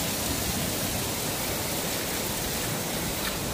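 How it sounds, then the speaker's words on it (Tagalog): Heavy rain pouring down in Las Vegas, a dense, steady hiss of falling water that fills the whole clip without pause, loud and continuous with no voices over it. "Hindi ganong umuulan dito sa Las Vegas, pero ngayon, kanina pang umaga, lakas ng ulan guys."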